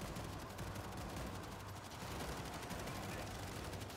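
Dense, continuous machine gun fire in the zombie shooter World War Z, a steady rapid rattle of shots heard fairly faintly throughout with no clear talk.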